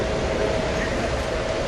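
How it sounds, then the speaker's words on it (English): The California Zephyr model train runs on a club layout, giving a steady, even rolling rumble of wheels on track throughout, close and continuous with no voices over it. "here's Carrie's California Zephyr on the club layout"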